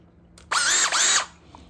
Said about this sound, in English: I think I'm gonna use this 20-volt master mechanic drill.